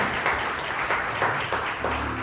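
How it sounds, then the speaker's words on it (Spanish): A church congregation claps along in a quick, steady rhythm, several bursts of hand claps repeating evenly, fairly loud and close. "le demos un aplauso al Señor"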